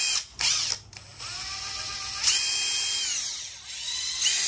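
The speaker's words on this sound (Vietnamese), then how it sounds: "Cái đầu này anh em mở vô máy băng vít nó thành cái cưa lọng nè." Cordless screwdriver fitted with a jigsaw attachment head runs in bursts with a whirring, whining motor tone, starting and stopping several times before a steadier run, close up.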